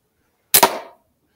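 A single sharp report from a Webley Mark 1 revolver cracks out close by, with a quick double-peaked bang and a short decaying tail, surrounded by silence.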